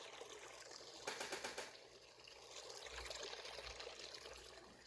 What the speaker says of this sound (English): I have some water in the background, kind of like a bubbling brook. With this noise machine